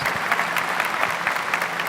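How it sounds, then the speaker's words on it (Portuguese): Steady applause from a crowd of about 70,000 men at a Catholic rosary gathering, dense clapping filling the whole stretch at an even level with no voices over it. "Podem dar uma salva de palmas aos homens do terço"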